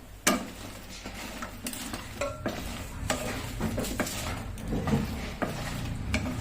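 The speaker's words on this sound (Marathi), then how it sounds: "आता आपले हे गुलाबजाम या पाकामध्ये टाकून घेऊ आपण" Soft-cooked gulab jamun are dropped into cooled sugar syrup and stirred, giving wet sloshing and light clinks of a spoon on the pan, with a few sharper knocks, close and fairly quiet, without speech.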